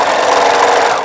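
A sewing machine over-sews a seam on a dress, a brief loud, close, fast even whirr of the needle mechanism that eases off at the end, with no talking.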